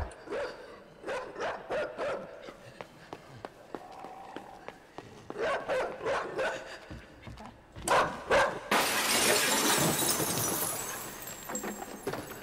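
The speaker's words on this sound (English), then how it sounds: "I think I'm supposed to break through that glass." Glass shatters in a video game, a sudden loud crash that spreads into a sustained noisy spray of breaking shards. Earlier there are scattered footsteps and clicks.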